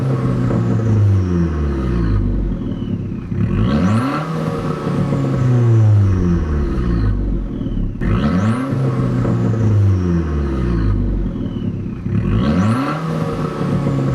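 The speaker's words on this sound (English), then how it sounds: "these Record Monza dual tip exhaust system that sounds absolutely glorious" An Abarth 595 Competizione with a Record Monza dual-tip exhaust is revved repeatedly, loud and close, each rev climbing sharply and then falling back, with crackles between the rises.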